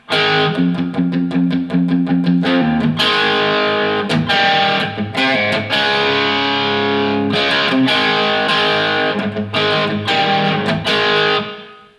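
Distorted electric guitar chugging through the riff of Ratt's "Body Talk", loud, with palm-muted rhythmic stabs, short breaks and sustained power chords.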